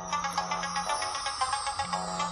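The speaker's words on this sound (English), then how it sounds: "why is my phone ringing?" A mobile phone plays a repeating melodic ringtone, steady and fairly loud throughout with a low tone looping underneath.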